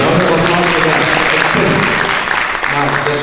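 A conference audience breaks into applause, steady dense clapping from a roomful of people, loud and close, with a voice or two murmuring beneath it near the end.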